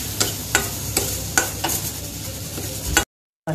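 A spoon stirs shahi biryani masala frying in a pan, with soft sizzling under a steady series of scraping strokes about every half second, close and fairly quiet, cut off briefly near the end.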